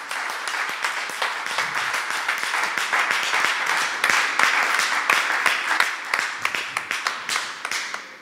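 A church congregation applauds in praise: steady, fast clapping from many hands, loud and close, swelling slightly in the middle and breaking into sharper, more separated claps toward the end.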